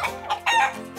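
Cartoon chicken calls in short bursts, a couple of clucking squawks close by, the second one louder and drawn out.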